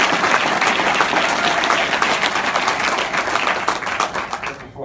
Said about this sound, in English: Can we give Bruce a round of applause?